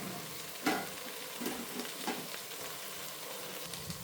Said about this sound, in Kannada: ಈರುಳ್ಳಿ ಚೆನ್ನಾಗಿ ಬೆಂದಿದೆ ಈಗ ಇದಕ್ಕೆ ನಾನು ಟೊಮೊಟೊ ಹಾಕೋತಿದ್ದೀನಿ